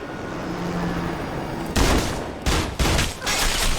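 Gunfire erupts in the action film Peppermint after a stretch of low background rumble: several loud, sharp volleys burst out close by, with short gaps between them, and no voices are heard.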